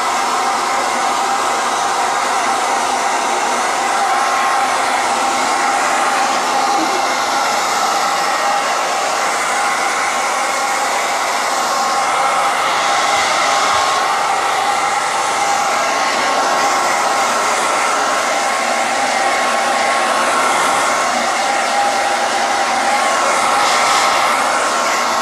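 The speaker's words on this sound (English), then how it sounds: "You ready for the hairdryer?" A hair dryer blows with a steady, loud whoosh and motor whine from start to finish, with no pauses and no talking.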